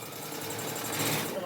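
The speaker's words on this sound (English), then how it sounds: "We're going to sew down this side." A sewing machine runs steadily as it stitches down the side of a boxed tote bag, a short continuous mechanical whir heard up close with a voice talking over it.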